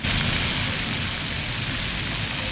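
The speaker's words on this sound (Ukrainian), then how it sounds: "Трошки йде дощ." Steady rain pours down in a constant hiss, with no voices and no breaks.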